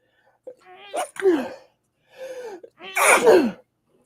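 Two loud, close sneezes, each with a gasping intake before it, come about two seconds apart on a live talk show, with quiet between them.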